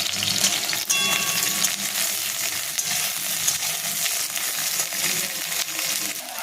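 Steady, loud sizzling of eggplant frying in hot oil alongside green bananas, with a brief metallic clink near the start.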